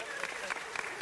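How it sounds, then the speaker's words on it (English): Audience applause at a city council meeting, a brief burst of clapping heard at moderate volume, blended with crowd murmur and some voices for about a second. "Now, don't stop the applause."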